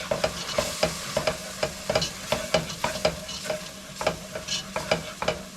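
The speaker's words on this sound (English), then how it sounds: "I think I might switch over to the whisk at this point just to get it broken up" A whisk beats a flour roux in a pot, making rapid rhythmic scraping strokes against the metal with a low sizzle underneath, close and steady.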